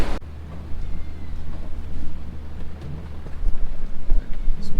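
Low, rumbling wind buffets the microphone in uneven gusts, swelling louder toward the end, in the British Virgin Islands.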